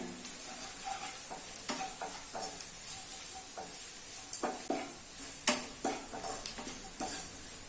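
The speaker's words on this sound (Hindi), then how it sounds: "सभी मसालों को मिक्स कर लेना है" Spices for paneer masala sizzle in a pan as a spoon stirs and scrapes them, producing soft irregular clinks and scrapes over a constant frying hiss, with no voices.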